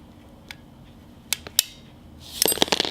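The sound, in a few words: click of rod seating in car alternator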